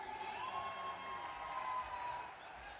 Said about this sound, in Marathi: टाळ्या जोरात झाल्या पाहिजेत